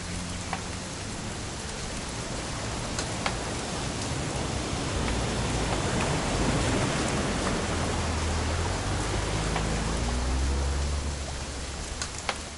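Rain pours steadily in a PS4 video game scene set on a weekend hunting trip, a dense continuous hiss with scattered sharp drop ticks and a faint low rumble swelling near the end, no speech.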